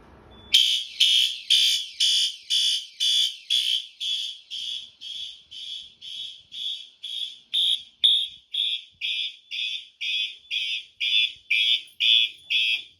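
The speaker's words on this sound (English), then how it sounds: "Now we're going to test the smoke detector." A shrill electronic smoke alarm beeps in a steady, rapid series of about twenty loud, piercing pulses, alone with no talking.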